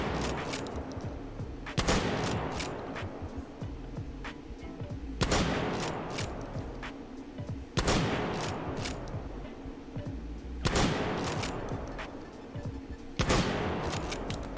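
A Remington 870 shotgun fires several loud shots, each a sharp blast with a ringing tail, spaced a few seconds apart with quiet gaps between them.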